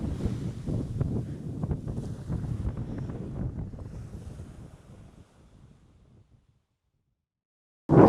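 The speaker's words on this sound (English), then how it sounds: "It's really windy today, as you can tell" Loud wind roars and rumbles against the microphone for several seconds, then fades to near silence before a sudden gust returns at the end.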